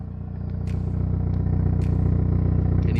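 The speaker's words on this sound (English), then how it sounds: "hear the pop, pop, pop, pop, pop," A Hyundai i30N idles and burbles at the rear with a deep, steady exhaust rumble, loud and close, punctuated by a few sharp crackling pops from the tailpipe.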